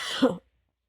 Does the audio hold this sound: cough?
yes